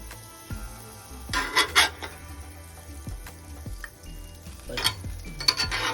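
A Reuben sandwich fries in butter in a pan, giving a steady close sizzle broken by occasional scrapes and clinks of a utensil against the pan.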